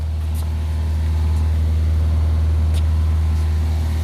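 A 2011 Subaru Outback flat-four engine idling after an engine foam cleaning, a loud steady low hum with an even throb and a few faint ticks on top.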